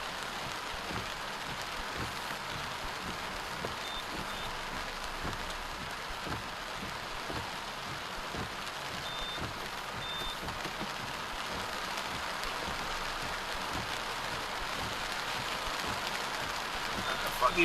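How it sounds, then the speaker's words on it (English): Heavy rain pours down across Jamaica as a dense, steady hiss and patter on surfaces that holds evenly for the whole stretch, with no single drops standing out. "But the rain a shower down, people."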